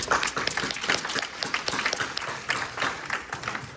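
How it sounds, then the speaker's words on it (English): Applause from the audience at a K-beauty products presentation as team leaders are called up, steady and fairly loud, with dense clapping carrying through the whole stretch. "Let's give them a big round of applause."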